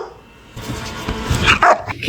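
A dog barks and growls at close range in a home, a few short gruff bursts in the second half of the clip following a quieter start.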